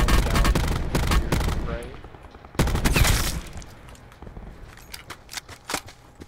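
Gunfire in the video game Call of Duty: Blackout: rapid automatic bursts up front, then a heavy volley, followed by scattered single shots trailing off, with a player speaking between them.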